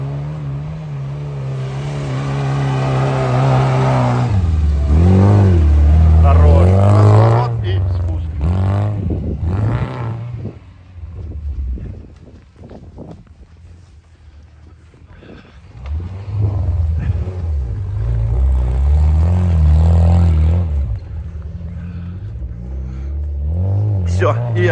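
Off-road car engine revving hard as it climbs a sandy hill at an off-road competition, loud, rising and falling in two strong bursts with a quieter stretch between, people talking over it.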